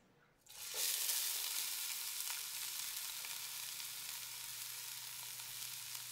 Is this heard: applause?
no